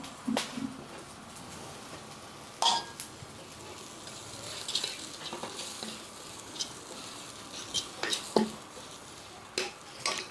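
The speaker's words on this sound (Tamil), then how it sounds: "ரவை வச்சுருக்கேன் இதை போடுறோம் இதிலே போட்டு வதக்கிடுங்க" Semolina tipped into a pan with onion, tomato and green chilli for upma and sautéed, a soft continuous sizzle broken by scattered clinks and scrapes of a spoon against the pan, moderately close.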